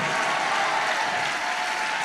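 Loud, sustained applause from a church congregation, many people clapping hard in a thick continuous roar without pause.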